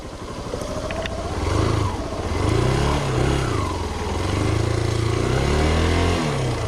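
Motorcycle engine running steadily on a farm trail, a loud, close mid-pitched drone that swells and eases with throttle changes, with clutch trouble on the bike.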